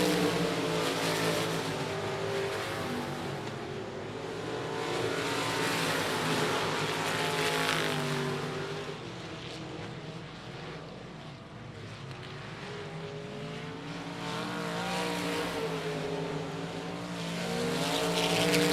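Race cars roar around a short oval speedway on championship night, multiple engines layered into a loud, continuous drone that swells and fades in waves as the pack passes, with pitch shifting through the turns.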